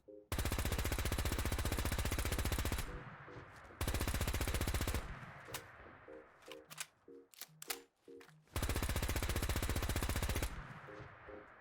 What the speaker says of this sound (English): I actually really enjoy the use of the Gatling laser sounds on this weapon